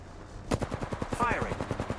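Rapid automatic weapon fire in the game Apex Legends, a fast evenly spaced burst of close, loud shots that starts abruptly and runs to the end.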